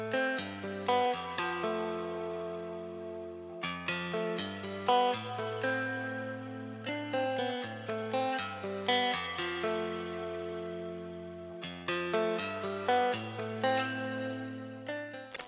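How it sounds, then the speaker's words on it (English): Distorted electric guitar from a software preset playing chords over a steady low bass line, saturated and washed in reverb, continuous and fairly loud. "I'm using the Fat Electric guitar preset, and then some reverb"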